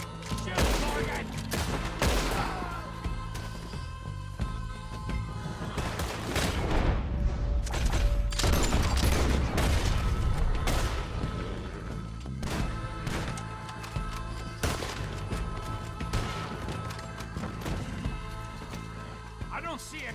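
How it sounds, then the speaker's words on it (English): Heavy gunfire in the Western shooter game Red Dead Redemption 2, with dense volleys of rifle and pistol shots and sharp cracks that peak mid-way before thinning to scattered shots, while voices shout over the battle. "Shoot, Morgan!"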